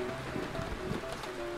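Cartoon sound effect of floodwater rising: a steady watery wash with surf-like swells and airy noise, moderately loud and continuous.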